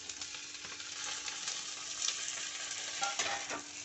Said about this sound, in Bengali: সব একসাথে দিয়ে একটু সময়ের জন্য কষিয়ে নেব।